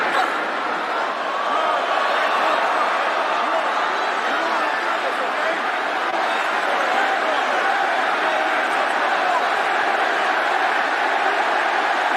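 WrestleMania arena crowd roaring during a mixed tag match, a loud continuous wall of cheering and shouting from a huge audience, with excited voices layered throughout.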